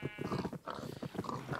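Sheep in the Minecraft video game bleat in quick, close succession, several short wavering calls over faint background noise.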